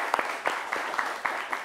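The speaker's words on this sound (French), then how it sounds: "On peut les applaudir, n'est-ce pas?" A studio audience claps for the winners of an African pleading contest on a television show, a short burst of fairly loud, steady applause with clap peaks in quick succession.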